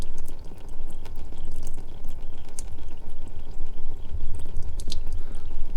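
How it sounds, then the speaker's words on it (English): Engine oil from a BMW S55 engine in an F80 M3 / F82 M4 drains out of the oil pan in a steady, dense splashing stream, close and fairly loud, continuous throughout with no voices. "while we wait for the rest of the oil to drain"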